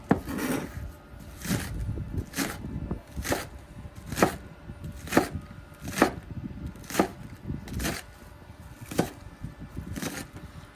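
Knife chopping green onion tops on a board for gumbo, working down toward the white part: a steady run of about a dozen crisp, close chops at an even rhythm, with no talk.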